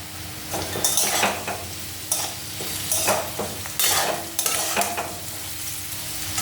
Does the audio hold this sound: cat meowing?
no